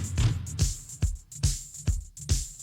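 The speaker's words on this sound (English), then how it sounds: "That's the sound of a woodpecker pounding on my gutters." A woodpecker pounds on metal house gutters: sharp, ringing knocks repeating roughly twice a second, fairly loud and alone without talk.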